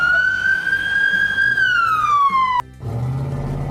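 A red toy police car's siren wails in a steady electronic tone that slides downward, then cuts off abruptly, leaving a low mechanical whir behind.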